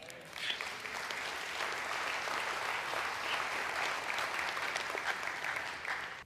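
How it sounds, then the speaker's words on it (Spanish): A church congregation breaks into loud, sustained applause, dense steady clapping from a large crowd that holds for several seconds before cutting off. "Le da un fuerte aplauso a él."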